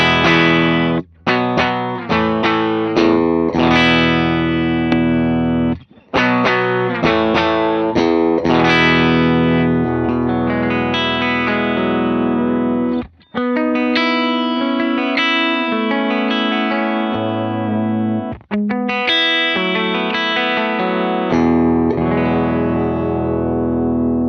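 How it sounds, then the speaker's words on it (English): Electric guitar played straight into ToneX pedals with a compressor, clean tone with chorus-like shimmer and reverb, a continuous melodic line of plucked notes and chords with long sustain and a few brief pauses. "I'll just play clean so you can hear guitar straight into the ToneX pedals with nothing else on"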